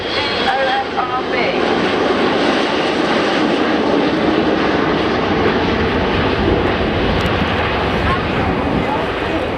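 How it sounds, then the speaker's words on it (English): A fixed-wing aircraft in landing configuration, just above landing speed, passes close at the 2015 Cosford airshow. Its engines roar loud and steady throughout while a voice talks over them. "The aircraft's going to come past us, and this is in landing configuration, just above landing speed."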